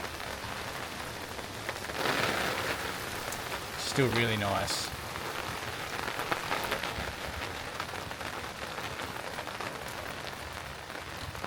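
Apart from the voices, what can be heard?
rain falling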